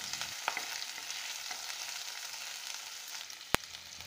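Green chili hits hot garlic paste in a pan and sizzles with a steady, close frying hiss, broken by a few sharp clicks of stirring and one louder clank near the end, with no talking.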